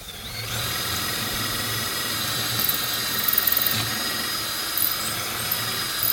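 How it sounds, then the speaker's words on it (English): A power drill whirs steadily and close, a continuous high-pitched motor drone with slight surges as it bores pocket holes into wood. "what I'm doing over here now is drilling out the pocket holes for the"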